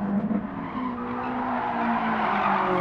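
In Gran Turismo Sport, a touge-tuned Kyodo Toyota AE86 drifts with a loud, sustained tire squeal that holds steady for a few seconds over the engine drone.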